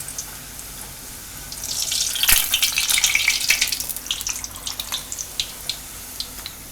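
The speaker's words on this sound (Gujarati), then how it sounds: "તેલ આવી ગયું તો આ રીતે એને તળી લેવું આપણે." Potato-stuffed shaak paratha goes into hot oil in a Gujarati home kitchen, setting off a loud sizzling rush that swells midway, then settles into scattered crackles and pops.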